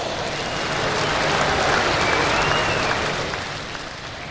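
A crowd at the 1995 National Farm Machinery Show tractor pull applauds the 2,200-pound Pro Stock class, a dense, steady round of clapping that fills the hall and tapers slightly at the end.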